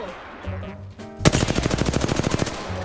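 Rapid automatic gunfire in the video game Apex Legends, a loud sustained burst of evenly spaced shots following a brief lead-in of game sounds, with faint voice chat.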